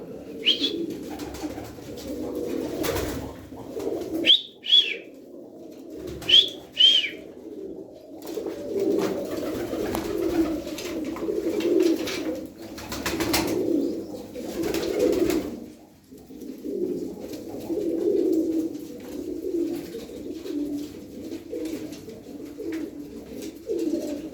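Pigeons in a loft coo steadily and close by, their soft, throaty calls layered together, with a few brief higher chirps and the occasional flutter of movement.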